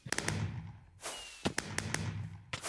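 Fireworks burst in a Minecraft-style multiplayer minigame: a rapid series of sharp cracks and pops, several clustered together, with fizzing between them.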